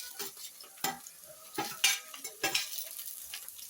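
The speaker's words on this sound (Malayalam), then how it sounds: "2-3 പച്ചമുളക്, കരിവേപ്പില എല്ലാം കൂടി ഇട്ട് നല്ലതായിട്ടൊന്ന് വഴന്ന് വരട്ടെ" Ginger, garlic, green chillies and curry leaves sautéing in a pan, heard close and fairly quiet as irregular spoon scrapes and clatters over a soft frying hiss, with no talking.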